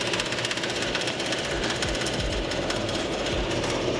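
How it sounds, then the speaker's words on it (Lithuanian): A paper label flutters against the spinning cooling fan of a BYD Atto 2, making a fast, continuous rattling buzz that stays steady and fairly loud throughout, with no talking. "Dabar sukasi aušinimo ventiliatorius ir kažkoks popieriukas ar tai etiketė uždėta ir jinai va taip aplevėsuoja."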